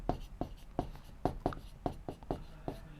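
Chalk or marker strokes on a classroom board during a Class 7 maths lesson on symmetry, a steady series of about nine sharp taps and scrapes roughly every third of a second, close and clear with no talking.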